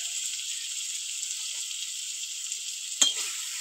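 Ginger paste and chili powder frying in hot oil for a Bengali egg curry, a steady soft sizzle with a sharp scrape or clink of a spoon near the end.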